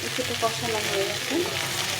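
Young jackfruit cooking down with spices in a pan, giving a brief, steady sizzle with soft stirring scrapes close by.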